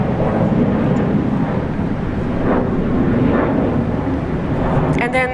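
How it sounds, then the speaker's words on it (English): British Airways Boeing 777 airliner at Sydney International Airport, a loud continuous jet roar with a rumbling low end, steady throughout, with a brief chirping sound near the end. "And then that 777 British Airways as well."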